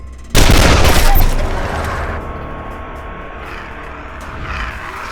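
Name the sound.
gunfire in Wasteland 2 video game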